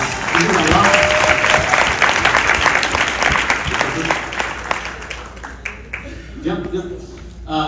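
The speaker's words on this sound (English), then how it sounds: "Give her a big round of applause." An audience at a community speakers event gives a big round of applause, loud sustained clapping and crowd noise that gradually thins and fades, with a voice talking over it.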